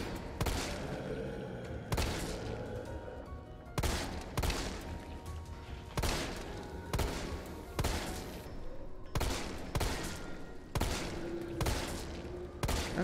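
Repeated gunshots fired at a zombie in the Resident Evil 3 video game, loud sharp blasts spaced about one to two seconds apart over roughly a dozen seconds with low game ambience between shots.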